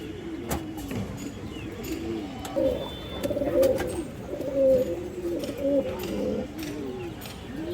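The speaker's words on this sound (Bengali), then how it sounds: "খুবই সুন্দর এক জোড়া খরা গলা কৌতর আছে" A pair of khoira-gola pigeons coos in repeated soft, throaty phrases at moderate distance, with a faint hum and scattered brief background noises.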